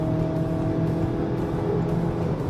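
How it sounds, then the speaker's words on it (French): A 2025 Audi Q3 engine rising in revs on the motorway, a steady, fairly loud drone with little wind or tyre noise and no talking. "on entend le moteur qui monte"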